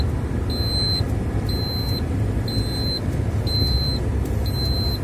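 Inside a truck, a dashboard sensor gives regular high-pitched beeps, about one each second, over a steady low engine and road rumble.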